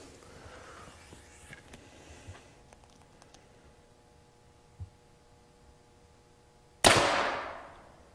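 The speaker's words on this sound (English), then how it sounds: "I'm going to go ahead and shoot an arrow through paper" An arrow leaves a bow and punches through a paper tuning sheet about ten feet away, a single sharp loud snap and thwack followed by a short decaying rattle, after quiet handling noises.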